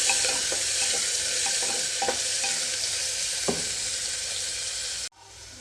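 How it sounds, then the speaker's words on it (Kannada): Onions frying in a pan for paneer masala rice, a loud, close, continuous hiss with a few soft stirring taps, ending abruptly, with no voices. "ಇವಾಗ ಈರುಳ್ಳಿನ ಒಂದು ಸ್ವಲ್ಪ ಕಲ್ಲರ್ ಚೇಂಜ್ ಆಗೋವರೆಗೂ ಫ್ರೈ ಮಾಡ್ಕೋಬೇಕು"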